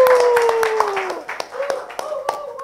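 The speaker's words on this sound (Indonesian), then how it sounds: "Gila, kasih tepuk tangan lu dong!" Quick hand claps ring out in a podcast studio during an anniversary episode celebration, sharp and close, while people talk and exclaim loudly over them.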